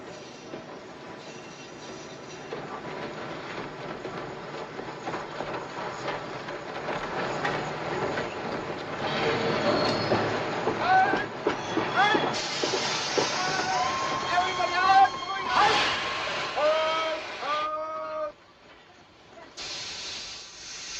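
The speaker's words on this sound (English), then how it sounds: "we have to clear the track. Our trains are coming." A steam train rolls along the track with steady hissing and rumbling, rising to sharp metallic wheel squeals near the end, loud and close, with voices faintly mixed in.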